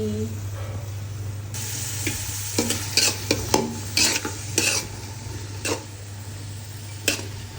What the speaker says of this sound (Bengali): পেঁয়াজটা দিয়ে দিলাম তেলের মধ্যে, পেঁয়াজটা একটু ভালো করে ভেজে নিব